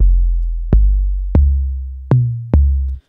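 Tuned 808 bass notes from the TX16Wx sampler in Reaper play alone, five loud booming hits with short bright attacks and long decaying low tails, sounding at an uneven, unhurried pace.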